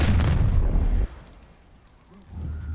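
Incendio fire spell cast in the Hogwarts Legacy video game, a loud booming fiery burst that cuts off abruptly and is followed by a low rumbling tail.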